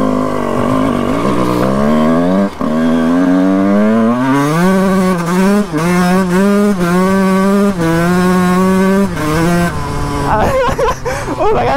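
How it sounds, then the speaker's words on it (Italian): A 1991 Honda CR 125 two-stroke motocross bike, unregistered and ridden in a field, revs hard and loud and close, its engine note climbing and dropping in repeated bursts with brief gaps between throttle blips. "Oh ragazzi, fa una paura sta moto"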